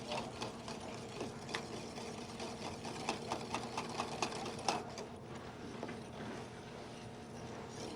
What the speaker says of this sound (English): You want to make sure you're getting all the corners of the pot with the whisk